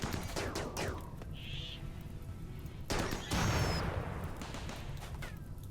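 Scattered bursts of gunfire from a fight in the video game Rimworld, fairly quiet, with a few sharper shots and a crash-like rumble midway, and no talking over them.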